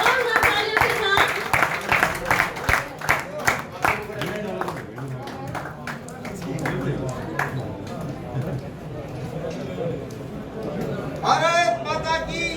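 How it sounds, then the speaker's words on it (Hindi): A crowd at a BJP ceremony in Hisar claps in a burst of rapid, loud applause that fades into murmuring voices and chatter. "जोरदार तालियों के साथ"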